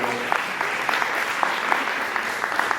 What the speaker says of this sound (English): And a bigger round of applause for yourselves for all coming out